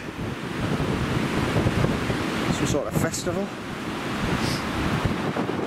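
Strong wind roars steadily through trees in snow, gusting with a rushing, surf-like noise, while a person speaks briefly partway through.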